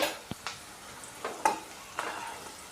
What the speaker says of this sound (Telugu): వేగిపోయింది ఇవి ముక్కలు వేగాయి